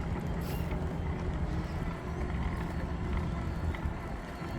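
Distant road traffic from South Road, heard as a steady low rumble and wash across the whole stretch, faint and far off behind a quiet outdoor spot by the Sturt River, with no talking.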